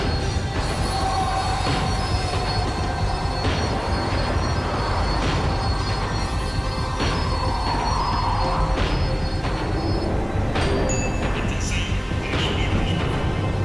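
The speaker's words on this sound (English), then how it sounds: "The tram was slowing down, and I'd only just gotten on board." A tram in the video game Max Payne 3 slows down, giving a steady loud rumble with wheel squeal and rail noise that continues throughout.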